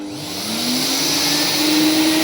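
A GTM JN503 construction vacuum cleaner draws water up through its hose from a container, its motor whine rising and then holding steady and loud, with a gurgling hiss of sucked liquid and no talking.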